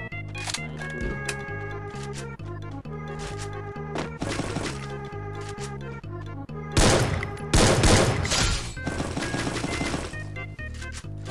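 Gunfire in the battle royale game Free Fire, with bursts of rapid shots and sharp cracks over steady background game music, growing loudest in a dense volley toward the middle.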